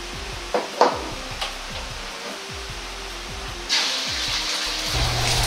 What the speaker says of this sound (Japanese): よく混ぜ合わせてから加熱し、油の中に卵を流し込み、